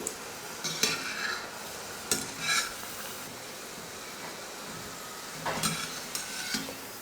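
Samosas fry in hot oil with a steady, soft sizzle, broken by a few sharp clinks and scrapes of a utensil stirring and turning them in the pan.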